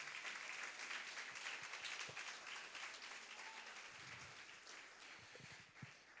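A church congregation at a worship festival gives the Lord a round of applause, a broad wash of many hands clapping that holds steady and then gradually softens, with a few low thumps near the end.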